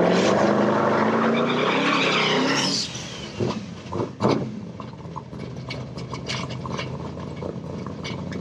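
Corvette Z06 with boost, engine revving hard at high RPM in a loud rising roar, then dropping off to a lower idle with scattered clicks and bumps.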